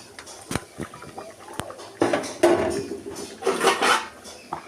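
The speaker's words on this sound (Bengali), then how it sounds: "এখন ভেজে রাখা যে কাতলা মাছটা রেখেছিলাম সেই মাছটা দিয়ে দেব" Fried katla fish pieces tipped into a simmering vegetable curry in a pan: a few sharp utensil clinks, then loud, close bursts of sizzling and splattering that swell and fade, with no talking.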